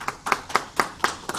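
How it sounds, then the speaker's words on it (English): Workshop attendees clap at the close of a game-development session, a small group giving brief, sparse applause with distinct, evenly spaced claps, close and moderately loud, with no talking over it. "Round of applause."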